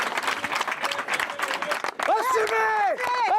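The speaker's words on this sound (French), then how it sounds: "la direction du groupe est entrée dans l'usine sous les applaudissements ironiques" Ironic clapping from factory workers as group management enters a factory in Caudry. The steady applause fills the first two seconds, then gives way to a voice speaking loudly over the crowd.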